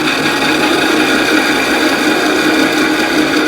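A metal lathe runs at 300 RPM while cutting metal, giving a continuous, close, fairly loud mechanical whir with steady tonal hum and no talking.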